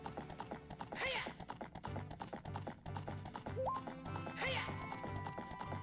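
Hooves clip-clop in a steady galloping rhythm while a horse whinnies twice over quiet background music, in the video game The Legend of Zelda: Ocarina of Time.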